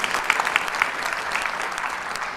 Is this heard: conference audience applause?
yes